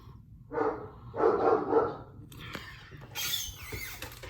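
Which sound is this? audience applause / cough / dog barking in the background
dog barking in the background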